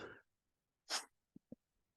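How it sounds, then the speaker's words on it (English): One sharp, breathy sneeze close by, followed by a couple of small throat clicks in otherwise quiet surroundings. "I'd sneeze."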